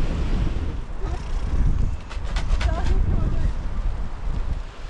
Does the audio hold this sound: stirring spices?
no